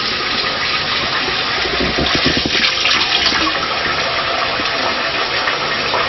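Cold tap water running loudly and steadily in a kitchen to rinse cooked noodles, a constant close gush with slight splashing changes midway.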